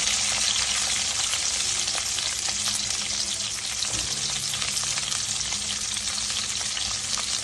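Onions and green chillies frying in oil in a pan for poha, a steady close hiss and crackle of sizzling that runs continuously throughout without talk.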